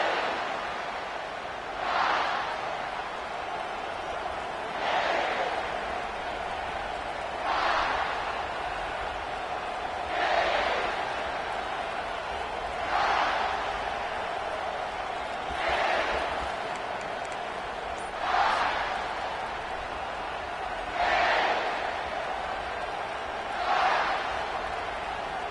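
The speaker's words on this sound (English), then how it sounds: "This crowd bringing an ear-splitting welcome to their visitors." A packed college football stadium crowd roars steadily through the opening kickoff between the Gamecocks and the Canes, a loud continuous wash of voices with repeated swelling surges every couple of seconds.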